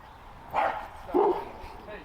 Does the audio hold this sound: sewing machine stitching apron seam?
no